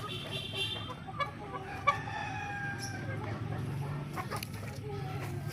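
Chickens in a backyard in Paltao, Pulilan, Bulacan give off faint clucks and a few brief crowing calls over steady low background noise, with a voice talking at times.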